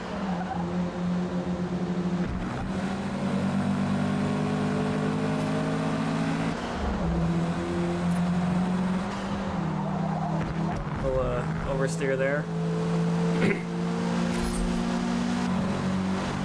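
Loud, steady engine roar from several racing cars in Forza Motorsport, droning and shifting in pitch throughout, with someone talking briefly over it.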